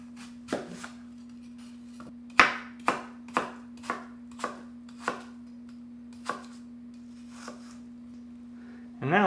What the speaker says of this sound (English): And then we want to cut this nice into small chunks